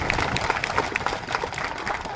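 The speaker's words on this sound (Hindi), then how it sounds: "पीछे भी ताली बज रही है, आदमी भी ताली बजा रहे हैं" A village crowd at a development rally applauds for Shivraj Singh Chouhan, dense sustained clapping from many hands at close range, with a voice faintly audible underneath.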